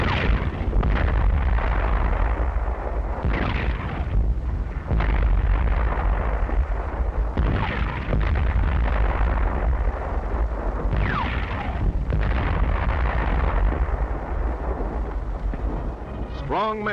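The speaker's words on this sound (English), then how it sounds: "On this great range, our tanks are spitting steel." Heavy M3 Lee medium tank guns firing on a gunnery range in 1941, with repeated deep booming blasts under a continuous narrator's voice and a rumbling background.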